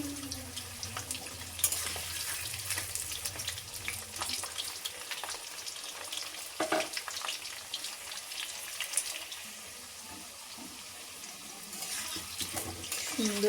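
Potatoes frying in oil in a pan over a low flame for a chicken curry, a steady soft sizzle with occasional stirring clatter, a faint voice now and then underneath.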